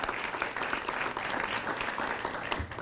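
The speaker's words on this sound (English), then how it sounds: "Give you a nice round of applause." Steady, dense applause from an awards ceremony audience, even and sustained throughout with no voices on top, dipping slightly at the very end.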